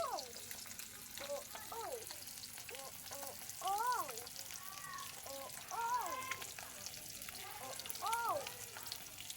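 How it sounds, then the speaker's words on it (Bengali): Pieces of catla fish fry in hot oil with a soft, steady sizzle and occasional spits, close by, while a person talks over it at intervals. "বন্ধুরা দেখো আম্মু মাছ ভাজতেছে।"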